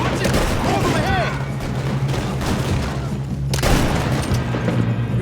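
Dense gunfire from a Red Dead Redemption 2 shootout, rapid overlapping shots and booms crackling continuously across the scene, with shouted voices mixed in.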